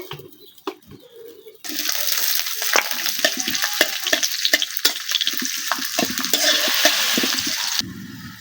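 Spice paste fries in oil while being stirred, a loud sustained sizzle that starts abruptly after a few quiet clinks, with frequent scraping strokes of the spoon and a sudden drop near the end.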